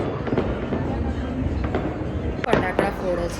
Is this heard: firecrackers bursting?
yes